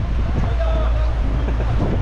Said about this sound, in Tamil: boat trip